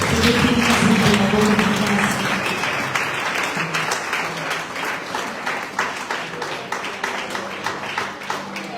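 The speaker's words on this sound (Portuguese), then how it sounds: "Aplaudimos para a glória de Deus" A church congregation applauds during a worship service, a loud burst of dense clapping that tapers into a looser, rhythmic clap with sung or spoken voices drifting underneath.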